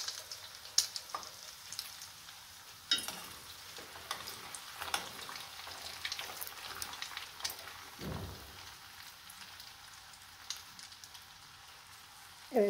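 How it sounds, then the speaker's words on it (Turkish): Beaten eggs frying in hot oil for an egg kısır, a soft crackling sizzle that runs steadily throughout at low level, with a few sharper pops and spits along the way and no talk over it. "Evet, yağımız ısındığı için çok güzel hemen kabarık pişiyor yumurtalarımız."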